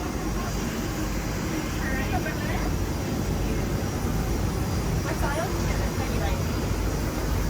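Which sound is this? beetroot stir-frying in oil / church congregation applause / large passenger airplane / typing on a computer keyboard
large passenger airplane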